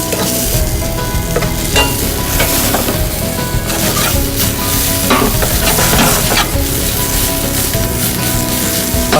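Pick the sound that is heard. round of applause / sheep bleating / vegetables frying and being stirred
vegetables frying and being stirred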